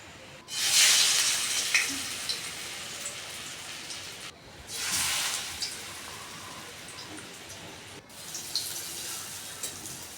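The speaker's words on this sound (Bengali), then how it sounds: "এক এক করে আমরা সবগুলো নাস্তা ভেজে নিব।" Snacks fry in a small amount of oil, giving a crackling, rain-like sizzle that swells and fades in three waves, close and moderately loud.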